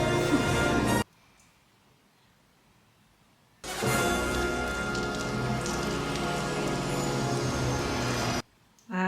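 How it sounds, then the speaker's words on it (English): Pouring rain in a movie scene, a heavy continuous hiss of rain hitting surfaces that cuts out abruptly for a couple of seconds, returns loud and steady, then stops again near the end. "Right now, it's pouring rain."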